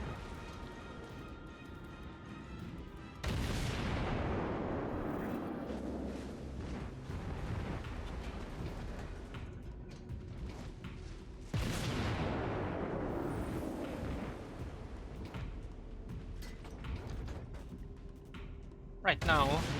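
Naval gun salvos roar from a warship in World of Warships, two heavy booming volleys with long decaying rumbles in a loud, continuous game soundscape.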